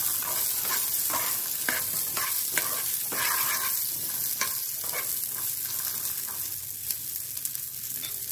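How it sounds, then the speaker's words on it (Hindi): Green peas roasting with cumin seeds in a pan for spinach samosa chaat, giving a steady sizzling hiss broken by rhythmic spatula stirring and scraping strokes, close and fairly loud. "अभी इसमें मटर डाल रही हूँ, आलू बॉयल था, ये मटर हम हल्का सा रोस्ट करके डालेंगे"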